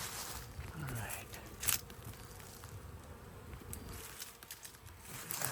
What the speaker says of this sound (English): this hive seems to be a little bit more active. Hopefully it's not aggressive.